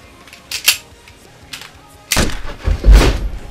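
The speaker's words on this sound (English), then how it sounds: "Quick, dude, shoot me in the face!" Two bursts of sharp cracks from a gunshot sound effect, a lighter pair early on followed by a louder, fuller blast with rumbling low end near the end.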